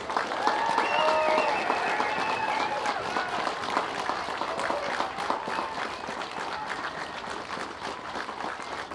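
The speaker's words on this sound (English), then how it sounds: "Please, a big round of applause." Sustained applause fills a crowd at a march in Lifford, Ireland, over the MICA defective-block scandal, dense steady clapping that stays loud for the whole stretch with a few whistles and shouts rising above it.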